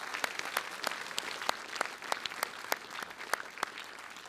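A round of applause at a British Skydiving AGM and awards event for Rob Hartley: faint, scattered claps from a small audience, coming in distinct sharp strikes that stay sparse from start to finish.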